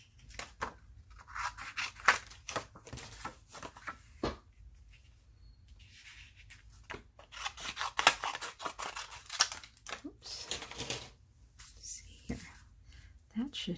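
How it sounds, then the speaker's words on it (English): Scissors snip through black cardstock in repeated crisp cuts, some clustered and some spaced out, close by, with a person talking quietly between the cuts. "we'll just cut a piece of black cardstock roughly"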